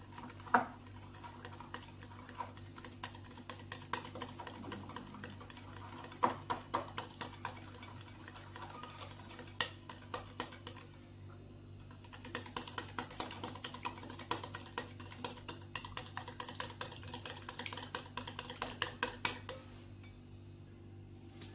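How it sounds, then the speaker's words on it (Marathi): Powdered sugar and ghee being whisked together in a bowl for nankhatai dough, a steady run of quick scraping clicks and taps against the bowl that continues for a long stretch with brief pauses. "पिठी साखर घेतली मी, इथे तूप, व्यवस्थित फेटून घेणार आहोत आपण हे"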